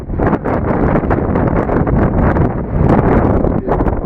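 Loud, steady wind buffeting the microphone at the seaside in Burnham-on-Sea, a dense low roar with gusty surges throughout and no voices.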